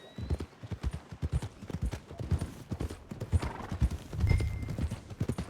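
Horse hooves clip-clop in a steady, close rhythm on a road in Red Dead Redemption 2, with a brief whinny partway through and no talk.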